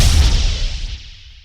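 A missile launching in an animated political satire cartoon, a loud roaring blast with heavy low rumble that fades over about a second and a half, no talking.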